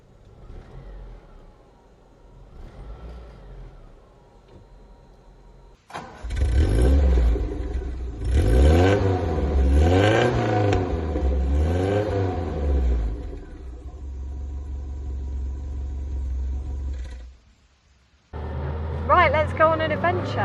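Austin 1800 Ute engine heard from inside the cabin, a loud steady mid-pitched drone that rises and falls with revs for over ten seconds, cutting briefly before returning, with a voice speaking over the start.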